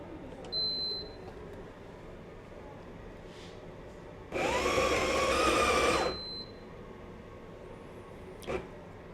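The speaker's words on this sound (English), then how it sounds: "it is now complete grinding the fresh beans into the grounds" A Ninja Luxe Café machine grinding fresh coffee beans, a steady whirring burst lasting about two seconds in the middle, preceded and followed by short electronic beeps, close and alone without talk.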